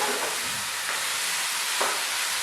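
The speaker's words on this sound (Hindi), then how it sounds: "ये हमारी स्थिति तैयार हो गई है, अच्छी तरह से भून भी रही है।" Spice masala for stuffed bitter gourd roasts in a pan, giving a steady, fairly loud hiss with a few soft clicks and no voices.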